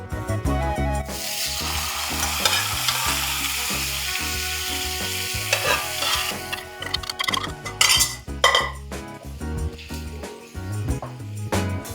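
Hot chili-powder tempering hits Kerala dal curry with a loud sizzle, followed by metal spoon clanks and scraping against the pot as it is stirred in, close and busy with no talk.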